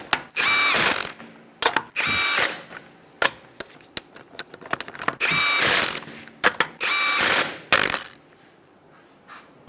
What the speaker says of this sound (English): Start our lug nuts. Use a 21mm socket. You're going to snug these down in a star-like pattern.